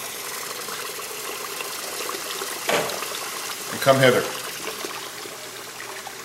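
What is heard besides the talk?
cold water trickling from tap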